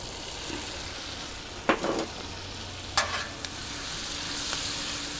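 Chopped onion sautéing in olive oil on a Blackstone griddle, a steady bright sizzle with a few sharp spatula scrapes and clinks partway through and no voices.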